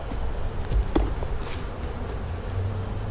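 Honey bees from an opened hive being shaken off frames, a steady low insect hum with a faint high whine throughout and a brief knock near one second.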